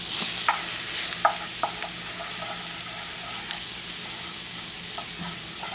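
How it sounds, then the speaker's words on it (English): Onion and three cloves of garlic fry in a pan with a steady, moderate sizzle, broken by a few clicks and scrapes of a stirring utensil. "I will saute the onion, 3 cloves of garlic for extra flavor."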